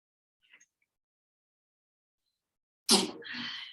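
One sharp, close sneeze bursts out after a long quiet stretch, with a breathy tail, in a quiet classroom setting.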